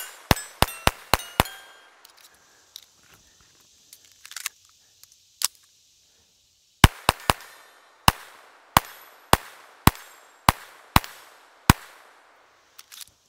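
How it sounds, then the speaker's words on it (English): Kraken pistol firing CCI ammunition while plinking: a quick burst of about six sharp, loud cracks, a few scattered shots, then a steady run of about ten evenly spaced reports, each ringing briefly. "got the Kraken loaded up here with some more CCI ammunition. Let's just finish the video up with a little bit more plinking."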